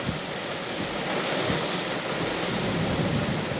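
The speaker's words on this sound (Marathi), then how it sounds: "विजांच्या कडकडासह पुण्यामध्ये जोरदार पावसाला सुरुवात" Heavy rain pours down in Pune during a thunderstorm, a loud, dense and unbroken hiss with low rumbling underneath and no voices.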